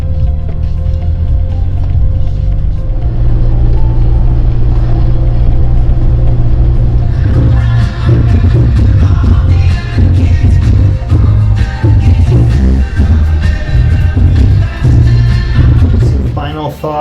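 A Jeep Wrangler drives along with a continuous low engine rumble and road noise, rising slightly as it picks up speed, while a person talks over it.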